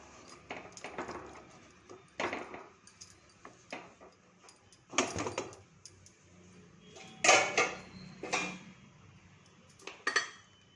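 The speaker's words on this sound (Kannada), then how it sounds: "ಇವಾಗ ಕುಕ್ಕರ್ ಮುಚ್ಚಳ ತೆಗೆಯೋಣ." A pressure cooker holding rice and water, cooked for vangibath, having its metal lid opened: a series of close metallic clanks, clicks and clatters in irregular bursts, with quiet pauses between them and no talk.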